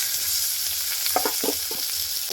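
Raw green bananas and potatoes fry together in a pan over browned onions. A loud, continuous sizzle runs throughout, broken by a few short scraping stirs midway.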